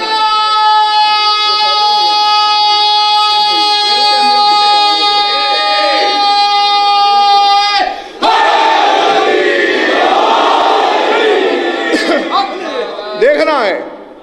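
A large crowd at a religious majlis gathering raises loud chanted slogans in unison, swelling and surging after a sustained tonal passage, close and overwhelming.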